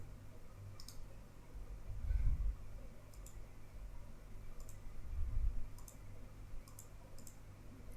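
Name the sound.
mouse clicking to log in to Palo Alto dashboard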